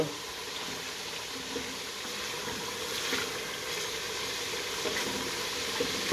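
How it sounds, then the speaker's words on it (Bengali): Chicken pieces coated in spices fry in a pan for chicken biryani, hissing with a steady close sizzle while being stirred, with no talking. "চিকেনগুলোতে মশলা অ্যাড করছি অ্যাড করে হালকা করে লাড়ে দিতেছি"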